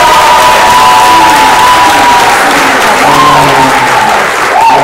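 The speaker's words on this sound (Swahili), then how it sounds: "Tupige makofi mazuri." A crowd at a Kenyan gathering bursts into loud, sustained clapping and cheering. A few tonal shouts and whistles rise over the dense applause, which stays close and full the whole time.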